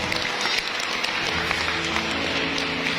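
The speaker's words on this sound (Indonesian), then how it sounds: "Kita tepuk tangan untuk kita semua." An audience in a church hall at a gathering with a bishop breaks into sustained applause, dense clapping that fills the space, with a few voices mixed in.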